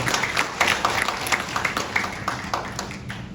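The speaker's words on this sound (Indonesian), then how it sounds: "Beri tepuk tangan untuk Tuhan kita." A church congregation claps along to a sermon, brisk uneven hand claps in a loose rhythm from a moderate crowd, fairly close and fading slightly toward the end.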